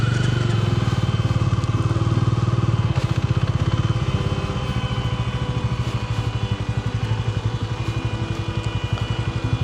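A motorcycle on a bike trip ploughing through loose sand, its engine chugging loudly and close with a steady rapid pulse, the rear wheel skidding as the pitch wavers.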